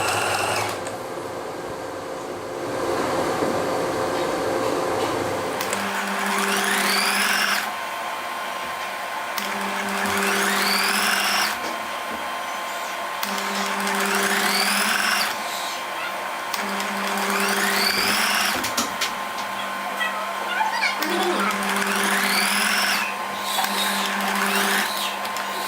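A sewing machine stitches a shirt seam in repeated steady runs of whirring with brief pauses between them, close and fairly loud, with a soft background hum throughout.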